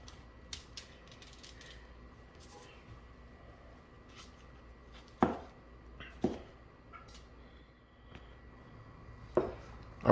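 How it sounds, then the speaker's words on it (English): A knife strikes a cutting board while smoked pork belly from a Weber 26-inch kettle is chopped, with a few sharp, well-spaced chops standing out over a quiet background. "we're just going to continue to cut these bad boys up"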